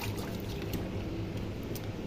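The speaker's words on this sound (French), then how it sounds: "Regardez, je vais rincer mon verre." A drinking glass rinsed under running water at a sink, a continuous close pour and splash of steady level for about two seconds, no voices.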